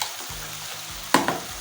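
Eggs go into a hot frying pan over a low hum. A sudden loud sizzle bursts out near the end, followed by a quick scrape, all up close with no voices.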